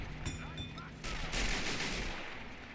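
Heavy gunfire striking a Stuk tank during a D-Day-style beach assault in a war video game, with sharp cracks early on, then a dense, rumbling volley of shots and impacts, moderately distant.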